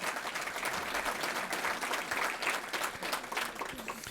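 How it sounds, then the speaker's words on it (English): Sustained audience applause at an annual emerging manager conference, a thick, even wash of many hands clapping at moderate distance for several seconds. "Bill Thompson, give him a round of applause."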